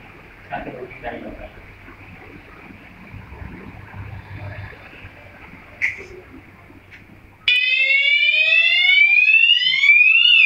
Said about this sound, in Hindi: इस तरह से आप देख सकते हैं कि अलार्म एक्टिवेट हो चुका है